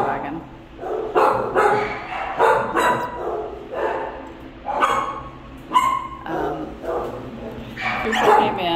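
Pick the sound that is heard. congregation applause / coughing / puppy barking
puppy barking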